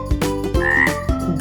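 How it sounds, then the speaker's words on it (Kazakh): A frog croaks loudly and close in a run of rhythmic, raspy pulses, roughly three or four repeated croaks with no other sound. "Бака."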